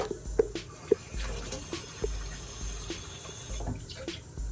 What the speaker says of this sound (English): 1 cup of water in the pan and let it come to a boil or let it get hot